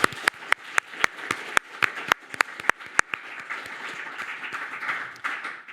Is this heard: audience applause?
yes